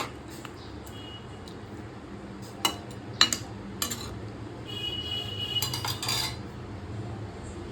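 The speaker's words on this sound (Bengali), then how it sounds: "মাছটা ঝোলের সাথে ভালোভাবে মিশিয়ে নিচ্ছি।" A spatula stirs fried tangra fish into curry with cauliflower and potato in a pan, giving scattered metallic clinks and scrapes over a soft, low simmer.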